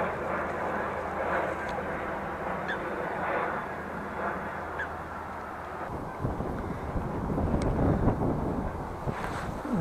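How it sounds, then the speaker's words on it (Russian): Wind blowing steadily across open water while pike fishing from a boat, a broad rushing roar buffeting the microphone throughout, louder near the end. "Здесь ветер сильнее уже у нас."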